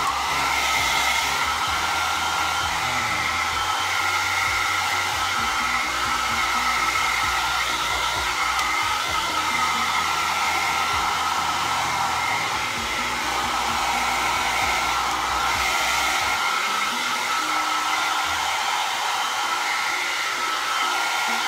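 Hair dryer blowing steadily on a kitten after a bath, a loud, continuous close-up whir and rush of air that runs unbroken throughout, with no voices.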